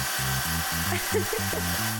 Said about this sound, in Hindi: ओह, एक ड्रिल। चलो इसका इस्तेमाल करते हैं।